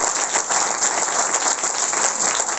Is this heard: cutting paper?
no